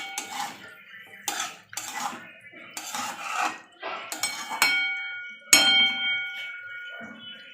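A spoon stirs masala mushroom in a metal pan, giving a run of sharp clinks and scrapes in irregular bursts, close and clear, with no talk.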